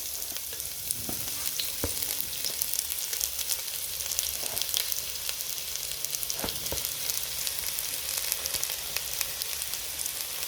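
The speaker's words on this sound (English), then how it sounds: "Now you go ahead and add to that the onions and the grated garlic." Onions and grated garlic fry in hot oil with a steady, moderate sizzle, broken by sharp crackles and the occasional clack of a stirring utensil against the pan.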